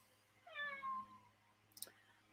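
Two cats meow near a door at dusk, a drawn-out rising-falling cry followed by a shorter, sharper call, fairly close with no talking over them.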